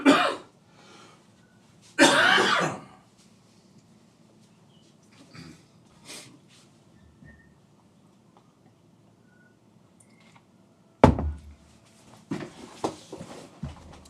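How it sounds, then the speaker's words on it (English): Several separate bursts of coughing and throat clearing during a live-streamed game session, loud and close, spaced out with quiet stretches between them. "So I'm just going to cough a bit."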